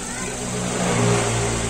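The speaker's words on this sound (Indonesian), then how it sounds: "Ini kebisingannya mesin." Suzuki Ertiga car engine running before an oil additive is added, a steady mid-pitched hum close to the microphone that builds slightly as it revs, with no voices over it, cut off abruptly at the end.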